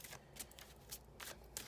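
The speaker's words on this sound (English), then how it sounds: "I'm going to give the cards an extra little shuffle here" Tarot cards shuffled by hand in a few quick riffling bursts, soft and close, with brief pauses between them and no talking.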